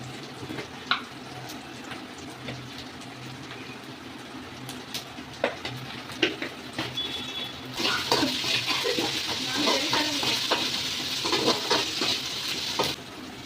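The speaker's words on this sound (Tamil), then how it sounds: "நன்றாக வதங்குவோம் வெங்காயம்" Onions with salt sautéing in a pan make a soft hiss with scattered clinks of a stirring spoon, and the sizzle grows louder and denser in the second half.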